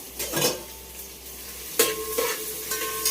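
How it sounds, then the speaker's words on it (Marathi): Potatoes sautéing in a pan for vegetable pulao: a steady low sizzle broken by a few sharp scrapes and clinks of the spatula, close up with no voices. "आधी मी बटाटा परतून घेतेय"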